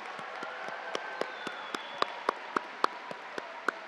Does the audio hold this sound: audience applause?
yes